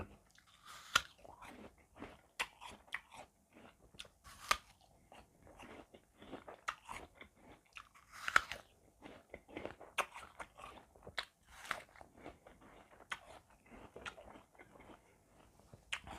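Crisp bites into a red-fleshed apple give sharp crunches, followed by wet, steady chewing, all close and intimate, repeating irregularly throughout with no talking.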